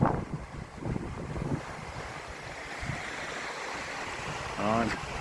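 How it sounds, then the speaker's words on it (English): Steady rushing of a fast-flowing river near a road bridge on the Welsh coast, mixed with gusty wind noise on the microphone, with a brief voice near the end. "Certainly fast flowing the river there."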